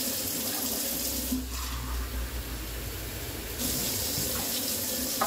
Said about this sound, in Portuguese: vou colocar 6 xícaras de água